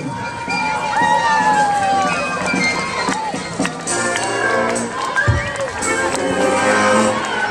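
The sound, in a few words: crowd cheering for the Limbaži Olympic Centre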